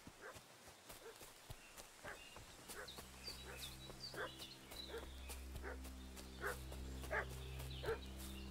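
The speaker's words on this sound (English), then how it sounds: "What's that dog making such a fuss about?" A dog in Kingdom Come: Deliverance II barks repeatedly in short, moderately distant bursts over ambient game sounds of birds and a low steady hum.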